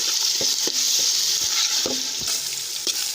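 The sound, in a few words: chopped tomatoes added to sautéed onions frying in pan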